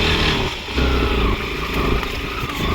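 A motorcycle ridden along a rough, wet mountain road gives a loud, continuous engine drone with uneven rumbling and shifting pitch, close and without talk.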